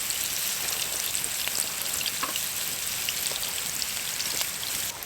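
Potato wedges and kebabs or meatballs fry in oil in pans, giving a steady, close, dense sizzle with fine crackling pops that runs without a break for the whole stretch, with no talk over it.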